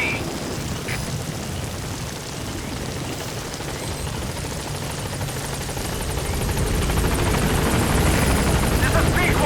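Helicopter arriving at a landing zone in Metal Gear Solid V: The Phantom Pain, a broad rotor roar that grows louder toward the end, with a radio voice speaking over it.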